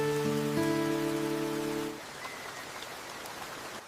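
Monsoon rain falling on a village, a steady hiss of drops on surfaces that continues alone after a sustained droning tone cuts off midway.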